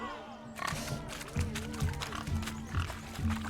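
Pigs squeal and grunt in a rhythmic series of oinks during a pig chase in The Witcher 3, fairly close and loud, with a voice talking over them.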